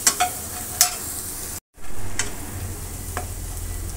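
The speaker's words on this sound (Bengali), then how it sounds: "টমেটো দিয়ে এটা সুন্দর করে, টমেটো একটু নরম হওয়ার পর আমি গাজরটা দিয়ে দিব।" Tomatoes fry in a hot pan with a low sizzle, punctuated by a handful of sharp scraping stirs; a brief dropout interrupts the sound partway through.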